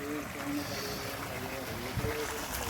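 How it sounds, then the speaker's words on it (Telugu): Water gushing steadily from a borewell beside a well near coconut trees, a continuous splashing rush with a brief louder surge near the end, faint voices in the background. "మా బోర్ ఎలా పోస్తుందో చూడండి"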